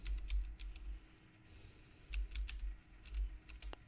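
A word is typed on a computer keyboard in a quiet room: a quick, close run of light key clicks in two short bursts, with a brief pause between them.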